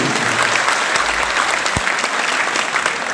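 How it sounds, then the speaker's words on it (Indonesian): Steady, full applause from an audience in a university hall in Medan rises for the governor of North Sumatra, a dense wash of many hands clapping without pause. "Boleh kita berikan tepuk tangan untuk Bapak Edi Rahmayadi"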